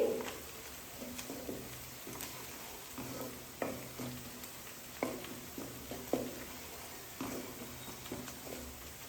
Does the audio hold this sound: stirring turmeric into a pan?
yes